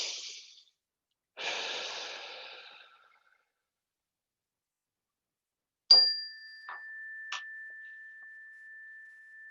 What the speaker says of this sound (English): So I'm going to go ahead and begin by inviting the bell.